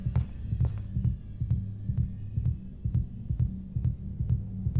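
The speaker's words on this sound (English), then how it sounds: "It's the character's heart beating." A character's heartbeat in the VR horror game Home Sweet Home, a loud, steady double-thump pulse repeating at an even, quick rhythm over a low hum, with a few faint sharp ticks scattered between beats.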